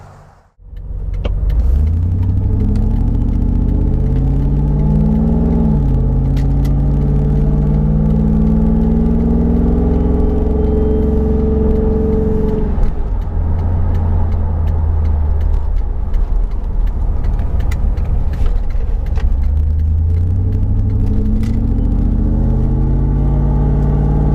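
Interior road noise from a Ford F-150 Lightning pickup truck driving, a steady low rumble and tire whir that holds loud and continuous throughout after a brief start.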